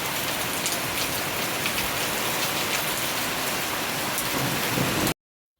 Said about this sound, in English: The rains have started raining heavily again.